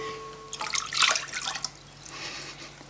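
Water is poured from a tap into a measuring jug for cake batter, a short splashing gush that swells then trails off into faint dripping, fairly close and without talk.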